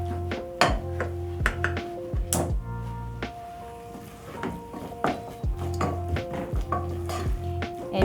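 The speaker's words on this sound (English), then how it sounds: "So you stir in your black pepper and salt." A spoon stirs black pepper and salt through a pot of beef stew with tomatoes, giving intermittent scraping and clinking knocks against the pot over a low sizzle and bubble.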